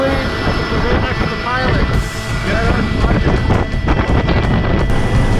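A Pacific Aircraft PAC 750 turbine airplane drones with a loud, steady turbine roar and buffeting wind noise, heard from close by, likely from inside or near the aircraft.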